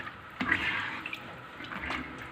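Soaked chana dal is poured into a cooking pot along with its soaking water, giving a short splashing, trickling pour that swells briefly and then settles into lighter dribbles, close by with no talking.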